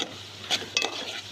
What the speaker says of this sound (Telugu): ఇప్పుడు బాగా ఎర్రగా ఫ్రై చేసుకుందాం.